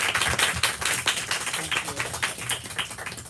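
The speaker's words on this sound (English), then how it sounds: "a little round of applause for Kit" A small audience clapping for author Kit Mayquist at a book discussion, a few seconds of close, dense, uneven handclaps with a hint of voices underneath.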